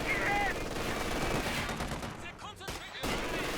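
Machine gun fire in the Company of Heroes 2 strategy game, rapid crackling bursts mixed with other gunfire and battle noise, dense and continuous with a couple of sharp louder shots near the end.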